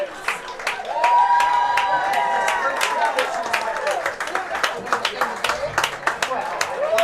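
A crowd at a regional final softball game cheers, whoops and claps after a grand slam, loud sustained shouting that thins into scattered applause, with some talk mixed in.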